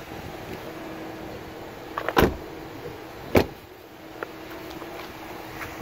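Doors shutting on a 2007 GMC Yukon XL SLT with the engine idling quietly, two solid thumps a second apart followed by a fainter knock.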